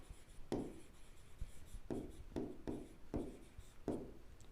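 Handwriting on paper while working a 9th-class algebra math problem: faint, quiet scratchy strokes in a loose repeating rhythm, about seven distinct pen strokes with soft rubbing between them.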